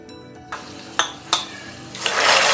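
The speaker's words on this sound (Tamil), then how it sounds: "இந்த பாயசத்தோட முந்திரி திராட்சையை சேர்த்துருவோம்." Ghee-fried cashews and raisins tipped into sago payasam and stirred: a few sharp spoon clinks against the pot, then a rising loud sizzling hiss as the hot ghee hits the pudding.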